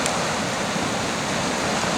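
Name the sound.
rain falling outdoors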